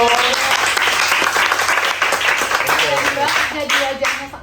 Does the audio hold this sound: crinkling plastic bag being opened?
no